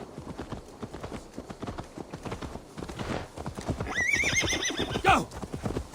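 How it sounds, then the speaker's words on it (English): Steady clip-clopping hooves of a horse in the video game Assassin's Creed Valhalla trot throughout, joined near the end by a loud, rising horse whinny. "Let's return the horse."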